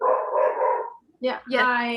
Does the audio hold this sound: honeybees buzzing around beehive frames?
no